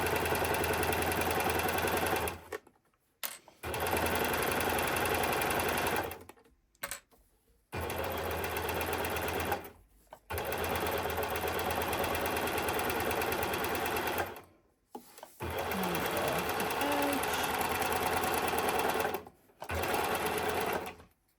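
A Baby Lock Accolade sewing machine runs in long steady bursts while stitching a zipper pouch, with brief pauses between runs, close and loud with no talking.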